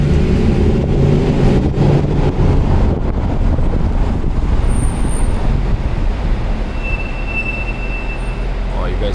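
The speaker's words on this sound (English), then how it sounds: "Oh, you guys hear that? That sound is the worst sound in the world." A slow-moving car's brakes give a short, thin high squeal late in the stretch, rising above a loud, constant road and wind rumble; no one speaks.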